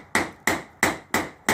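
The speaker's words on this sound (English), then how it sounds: "Get the hammer and tapper out and just basically hit the most tension spot" A PDR hammer and tapper strike the body panel of a 1983 Trans-Am: five sharp, evenly spaced metallic taps, close and loud, each one decaying quickly before the next.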